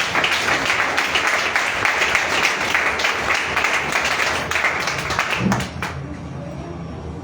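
A church congregation claps and cheers during a consecration service, a dense, loud wash of applause with voices mixed in that thins out and drops off near the end.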